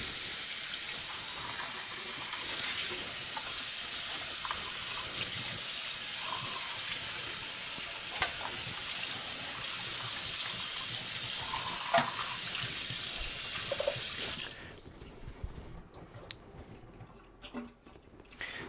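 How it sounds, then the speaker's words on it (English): Running water rinses out a plastic paint-mixing cup that held Floetrol, a steady splashing hiss at close range that stops near the end, leaving a few faint clinks and handling sounds. "So let me just rinse out the cup that had the Australian Floetrol in it."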